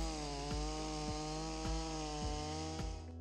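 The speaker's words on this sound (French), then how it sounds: "Prenez une tronçonneuse par exemple, qui rugit à 110 décibels" A chainsaw roars loud and close with a steady, harmonic engine drone, pulsing slightly in a regular rhythm as it runs continuously without any voices.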